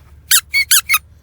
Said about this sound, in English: Yeah, it makes horrible squeaking noises.